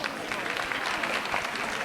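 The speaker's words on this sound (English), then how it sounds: "So, another round of applause." A brief burst of audience applause at a school diversity festival, a busy, even patter of many hands clapping at moderate loudness for under two seconds.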